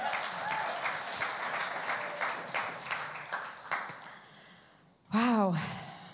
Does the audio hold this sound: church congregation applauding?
yes